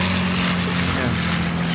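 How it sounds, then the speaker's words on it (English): A Lancaster bomber with Rolls-Royce engines flies over an agricultural show, its steady droning propeller hum continuous and fairly loud, with people talking underneath. "We've got the Lancaster bomber flying over as we speak. It's with the Rolls-Royce engines."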